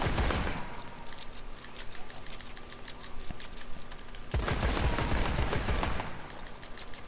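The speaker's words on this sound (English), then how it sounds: "I'm just shooting it a bunch so it'll show some degradation" Gunfire in Red Dead Redemption 2 as an animal is shot repeatedly, heard as dense, rapid bursts of sharp cracks that thin briefly in the middle and then return just as heavily.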